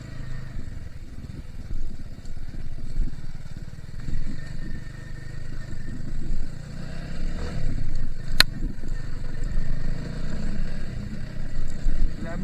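A motorcycle rides along a village road, its engine a steady, close, low rumbling drone that rises and falls slightly throughout, with one sharp click partway through.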